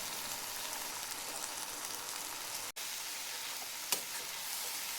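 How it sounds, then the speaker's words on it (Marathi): Salted moth beans (matki) roast in a pan with a soft, steady hiss and crackle, fairly quiet and unbroken, with one sharp click and a brief scrape partway through and no voices. "मटकी भाजून घ्यायची."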